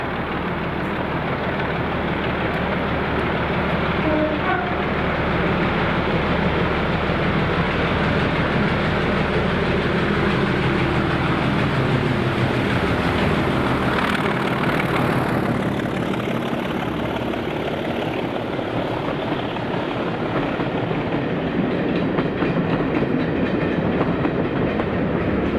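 A train runs past at Kinniel Incline in Scotland on a December day, a steady broadband rumble of wheels and rail noise with faint clickety-clack that lingers loud and continuous throughout, no voices.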